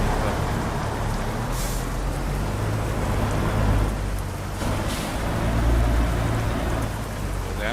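Steady rain in Euro Truck Simulator 2, a constant dense wash of falling water with a low vehicle rumble underneath, holding even throughout.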